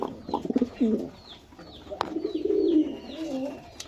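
Kaldos line pigeons cooing softly in a loft, several low rolling coos close by, with a few faint clicks and flutters between them.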